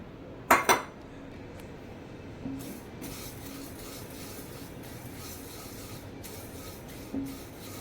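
Ingredients for fenugreek ladoo roasting in a pan: a sharp metallic clink or two at the start, then a soft, continuous scraping rustle as they are stirred, fairly quiet.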